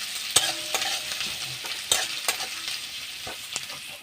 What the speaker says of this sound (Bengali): এবার এই কুচনো পেঁয়াজগুলো আমি ভালো করে লাল লাল করে ভেজে নেব।